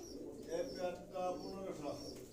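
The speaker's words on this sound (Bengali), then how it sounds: "এখানে দেখতেছি একজোড়া ঘিয়াচুল্লি কবুতর" A pair of Ghiyachulli pigeons coo softly at a pigeon farm, with low throaty warbles that rise and fall over a couple of seconds against a faint murmur of background voices.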